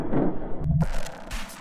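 A BTR-4E armoured personnel carrier fires its weapons on a test range: a heavy rumbling blast, a sharp crack, then a brief tail of reports and rumble, loud and close.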